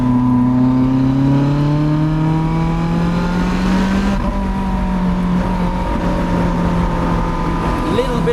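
A mid-engine Lotus Elise accelerates up the Sustenpass mountain road, its engine note rising steadily through a gear, dipping briefly at a shift, then pulling again, loud and close from inside the car with some speech mixed in.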